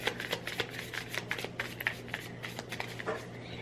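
A deck of affirmation cards shuffled by hand, a close, steady run of quick crisp flicks and riffles over a faint low hum.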